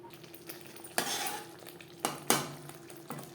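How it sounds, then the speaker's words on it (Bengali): Spice masala stir-fried in a pan over a low-medium flame for a vegetarian okra dish, with a quiet simmer broken by several sharp scraping stirs of a utensil against the pan. "মশলা কষাবো লো টু মিডিয়াম ফ্লেমে"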